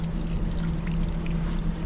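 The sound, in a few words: trapped water pouring out from underneath house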